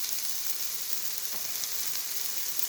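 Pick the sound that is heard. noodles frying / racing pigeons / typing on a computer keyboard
noodles frying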